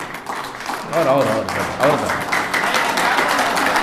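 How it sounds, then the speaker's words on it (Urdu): Audience applause at an All India mushaira, the Bazm e Ghalib poetry gathering, swelling to a steady, dense clatter of clapping beneath someone speaking into a microphone. "پرزور تالیوں کے ساتھ"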